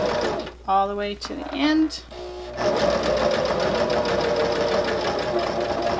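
A person speaks briefly, then a sewing machine runs continuously and steadily up close, stitching a hem on a fabric grocery bag holder.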